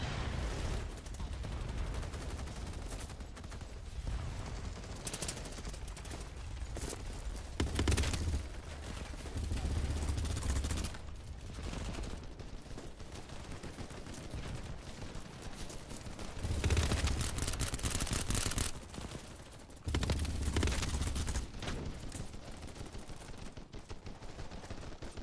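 FAMAS rifle fire in BattleBit Remastered, heard as repeated bursts of automatic shots over continuous battle noise, some bursts louder and closer than others, with no talk.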